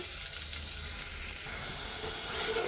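Onions sizzle and fry in hot oil for a shrimp curry, a steady bright hiss with faint stirring noises, close and continuous with no talk.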